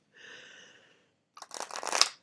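A deck of playing cards is riffle shuffled close by. A soft whirring riff comes first, then a pause, then a crisp, fluttering burst of cards bridging together.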